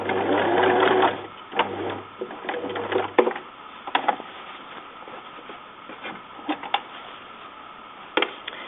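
Sewing machine stitching boning into a bodice runs in a quick close whirring burst, stops, runs again in shorter bursts, then leaves light handling clicks and taps in a quieter room.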